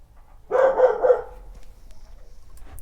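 A dog barks three times in quick succession, moderately close and fairly loud, followed by quiet background.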